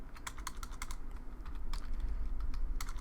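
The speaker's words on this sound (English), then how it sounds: "I'm having a horrible time typing today." Rapid, uneven typing on a computer keyboard, with crisp clicking keystrokes that come in bursts and short pauses over a low background hum, close and fairly quiet.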